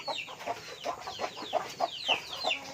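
Village chickens raised as a hobby, clucking in a rapid run of short, sharp calls, close and fairly loud, with a faint murmur of background noise and no clear speech.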